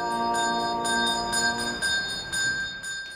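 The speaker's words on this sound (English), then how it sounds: "caregiver told Boyd after his passing that it meant everything to him to be a Salvation Army bell ringer" Salvation Army bell ringer's hand bell at a Christmas kettle in the Mall of America, ringing steadily in repeated bright clangs with a lingering metallic ring, fairly close and loud over a busy indoor mall background.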